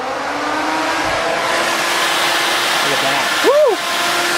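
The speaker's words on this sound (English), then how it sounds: "I'll put the relay back in here and let it spin for you." An electric radiator cooling fan on a Chevy square body truck spins with a steady, breathy whoosh of rushing air, and a short sweeping tone rises and falls near the end as a voice speaks briefly.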